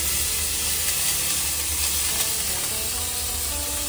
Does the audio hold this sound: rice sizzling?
yes